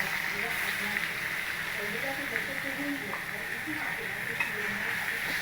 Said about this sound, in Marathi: आता हा बारीक चिरलेला कांदा याच्यामध्ये टाकूया आपण